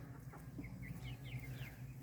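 A Leghorn chicken clucks inside a hoop coop on a homestead, several soft, quick clucks heard faintly over a low background hum.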